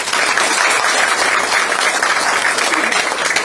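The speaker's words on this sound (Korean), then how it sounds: "박수 한번 드리시죠" Enthusiastic applause fills a Democratic Party supreme council meeting in Yeonggwang, South Jeolla, a dense steady clatter of many hands clapping at close range.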